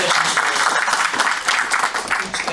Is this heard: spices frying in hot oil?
no